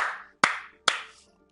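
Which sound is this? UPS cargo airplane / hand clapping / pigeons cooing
hand clapping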